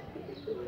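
A pigeon gives a short, soft coo, faint against quiet background noise.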